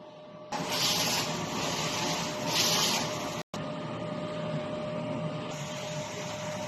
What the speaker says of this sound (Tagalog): At nozzle test.